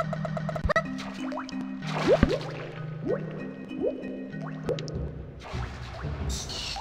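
Lanky Kong swims in Donkey Kong 64, with repeated watery splashing and squishy game sounds over a looping melodic game soundtrack.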